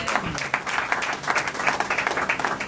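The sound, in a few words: congregation applauding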